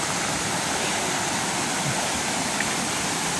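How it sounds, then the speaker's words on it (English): A spread-out river rushing over rocks along a hiking trail, a dense, steady roar of flowing water with no break. "The river's a little spread out up here."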